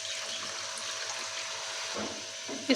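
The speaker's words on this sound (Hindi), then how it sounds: "थोड़ा सा हम इसमें पानी डालेंगे।" Water splashes into fried ground masala with garam masala in a cooking pan for an aloo moongray dish, giving a steady hiss and spatter that lasts nearly three seconds, with a brief louder burst at the end and no talking.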